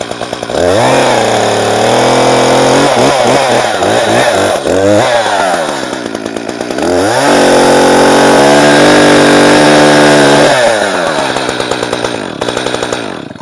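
A chainsaw cuts a felling notch into a small tree, its engine loud and close, revving up and down and bogging as it bites into the wood.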